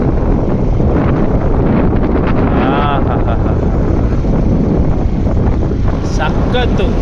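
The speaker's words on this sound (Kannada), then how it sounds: "ತಣ್ಣಗೆ ಗಾಳಿ ಬೀಸ್ತೈತೆ" Cool wind blowing at Cabo de Rama beach in Goa, a steady close buffeting rush across the microphone that lasts throughout, with faint talk in the background.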